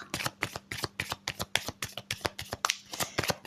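Tarot cards are shuffled by hand in a quick, regular run of crisp riffling flicks, close and fairly quiet, with no talk.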